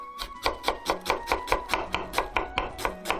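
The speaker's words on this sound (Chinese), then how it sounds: "大家看到这个切洋葱的这个方法也是比较特别的" A knife chops an onion on a cutting board in a steady run of about fourteen sharp, evenly spaced strikes, close and clear, with no talking.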